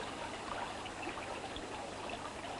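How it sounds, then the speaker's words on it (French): Water flowing along a canal toward a small wood, a steady, soft trickling wash with gentle bubbling, moderately quiet and continuous with no voices. "chante d'une voix plaintive l'eau qui s'écoule dans le canal et qui fuit vers le petit bois"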